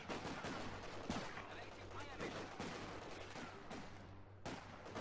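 Bursts of Company of Heroes 2 battle gunfire, including machine-gun rattle, crack faintly and repeatedly through a busy game soundscape.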